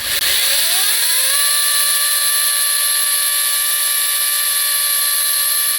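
A GTM CS18/127BL cordless chainsaw spins up within the first second and then holds a steady, loud, close electric whine with a pure rising pitch that levels off and continues unbroken.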